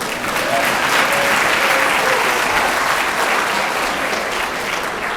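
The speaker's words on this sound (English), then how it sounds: "Yes, please clap." Audience at a school all-city orchestra concert applauds steadily, a dense, even wash of clapping from a large crowd filling the hall for several seconds.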